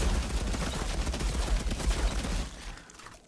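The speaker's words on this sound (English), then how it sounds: "Automatic shotgun." Automatic shotgun fire in the Outriders video game, a dense, continuous barrage of loud, overlapping booming shots lasting nearly three seconds before abruptly cutting off into quiet.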